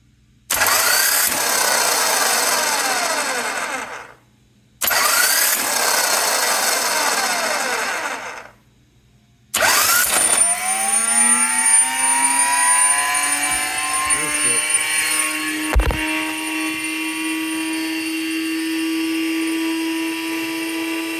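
A 1984 Harley-Davidson Tour Glide motorcycle engine cranks twice in long grinding bursts with pauses, then catches and settles into a steady, close running idle.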